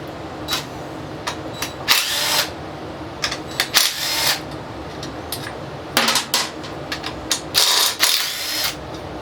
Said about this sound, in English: What I'm going to do is I'm going to pop this valve cover off real quick.